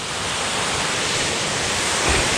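Rushing water of the Barrasa waterfall in Gowa regency, a steady, dense roar that holds evenly throughout with no voices.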